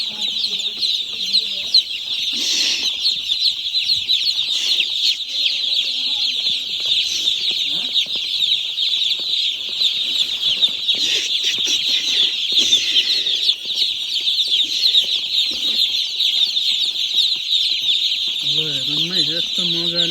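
Chicks peep constantly in a bright, dense chorus while playing and running about, with a few louder chirps and brief low clucks near the end.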